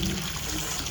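Continuous rushing and trickling of rainwater pouring from a rooftop pipe during heavy rain, close and steady for the whole second.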